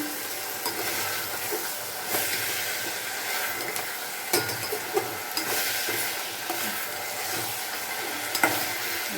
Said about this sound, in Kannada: ಹಾಗಲಕಾಯಿ ಚೆನ್ನಾಗಿ ಎಣ್ಣೆಗೆ ಬೇಯಬೇಕು